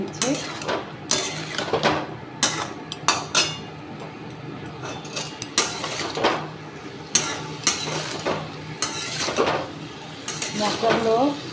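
A utensil repeatedly clanks and scrapes against a cooking pan as spices with salt, turmeric and Kashmiri chilli powder are stirred, in irregular sharp knocks close by over a faint sizzle.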